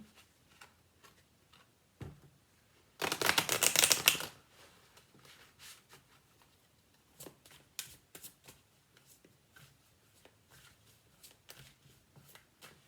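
Tarot cards riffle-shuffled in one loud, dense burst lasting about a second, followed by quieter scattered taps and card handling.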